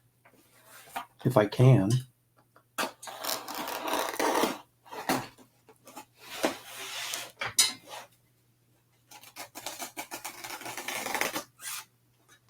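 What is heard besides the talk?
blade cutting open a comic shipping box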